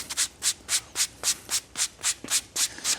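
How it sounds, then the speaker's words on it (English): Alcantara upholstery in a Corvette interior is sanded by hand in about eleven steady back-and-forth strokes, each a close, loud, hissing rasp in an even rhythm, with no voices. "it's pretty close to like new when you sand it down properly"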